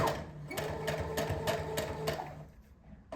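A sewing machine stitches straight across a skirt waistband in a quick, even run of mechanical clacks, close and fairly loud, and slows to a stop near the end.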